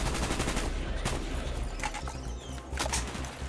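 Sustained automatic gunfire in the video game Call of Duty Black Ops, loud, close and rapid, a dense unbroken burst of shots throughout.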